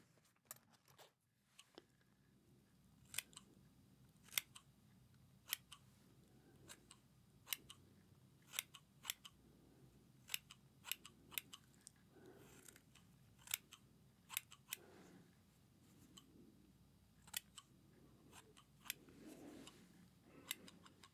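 Scissors snip through hair during a haircut, a steady run of crisp, close, quiet cuts in a rhythmic pattern, with no talking.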